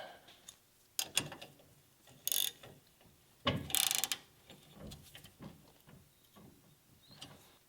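A bolt is tightened down on a yoke-holding tool, giving a few loud, close ratcheting and metallic clicking bursts separated by quieter handling noises, with no talking.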